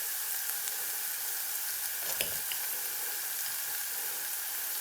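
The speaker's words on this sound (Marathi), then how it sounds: "आता याच्यामध्ये घालायचे अद्रक लसूण पेस्ट. आता चांगलं परतून घ्यायचं आहे." Ginger-garlic paste and turmeric sauté in a pan, giving a faint, steady sizzle with a soft hiss and an occasional small pop, without any voices.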